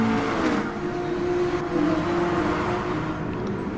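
Race cars accelerate together at a restart on the Spa circuit, a dense continuous engine roar with steady tonal drone, loud and sustained throughout with no talk.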